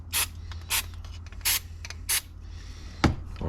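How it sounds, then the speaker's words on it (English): Four short hissing bursts from a spray can of lubricant onto a catch can fitting thread on a Holden HQ Monaro coupe in an even rhythm, followed by a dull clunk. "Spray some of that on there,"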